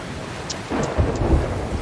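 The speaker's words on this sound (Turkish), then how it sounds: "Yağmur yağıyor kanka dışarıda." Thunder rolls low and heavy outside in a video game, swelling in the second half over a bed of steady rain hiss, with a few faint sharp ticks near the start and no talking.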